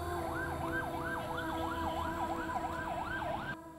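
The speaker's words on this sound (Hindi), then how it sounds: "एम्बुलेंस।" An ambulance siren wails in a steady rising-and-falling cycle, loud and close, with continuous vehicle rumble beneath, cutting off abruptly near the end.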